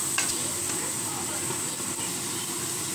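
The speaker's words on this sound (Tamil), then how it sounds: "அதையும் நல்லா வதக்கிடலாம்" Tomato sautéing with Aachi garam masala in a pan, a continuous sizzling hiss with faint stirring scrapes throughout.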